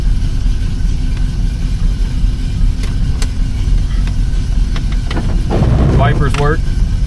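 A 1974 Dodge Challenger engine idles steadily and close after starting, a low continuous rumble, with a person talking over it toward the end.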